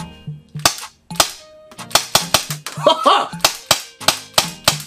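Rapid sharp cracks from an airsoft gun fitted with an Acetech Blaster tracer unit firing regular BBs, about a dozen close, loud pops in an uneven string with brief gaps.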